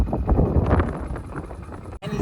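Strong outdoor wind buffets the microphone in a loud, low, rumbling roar that stays steady and then cuts out briefly near the end.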